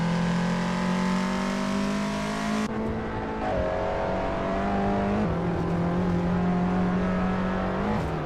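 Race cars speed around a track in a video game racing event, several engines droning and revving together at close range, with pitch shifts as gears change and cars jostle side by side, and no voices.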